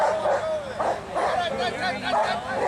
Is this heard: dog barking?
yes